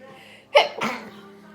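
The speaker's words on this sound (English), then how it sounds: "Oh, I gotta sneeze." A single close, sudden sneeze with a sharp intake and a forceful burst, followed by a brief exhale in an otherwise quiet room.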